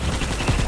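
Sniper rifle fire in the sci-fi shooter Starship Troopers: Extermination, heard as a dense, loud burst of sharp gunshot cracks within a fraction of a second.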